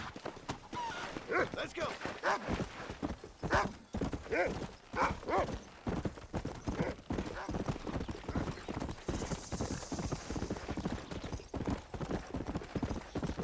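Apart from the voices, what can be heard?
horse hooves in video game Red Dead Redemption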